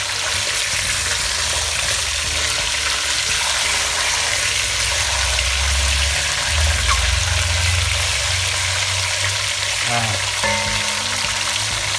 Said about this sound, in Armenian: բուսայուղի մեջ ես միսը լավ, այսենց տապակվի բոլոր կողմերից